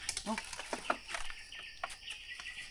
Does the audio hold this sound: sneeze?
no